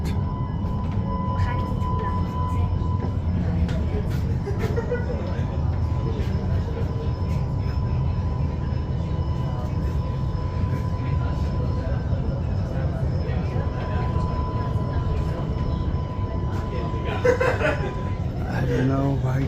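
A Tel Aviv light rail train enters an underground station with a steady rumble and rolling rail noise throughout. A person talks and chuckles over it.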